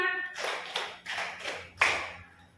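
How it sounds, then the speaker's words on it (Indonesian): Five broadband claps from a classroom group of pupils, roughly evenly spaced over about two seconds, each a sharp burst fading quickly with the last one loudest, following a short voiced tone at the start. "Oke, tepuk 5."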